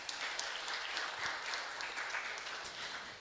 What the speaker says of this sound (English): So another clap for them, please.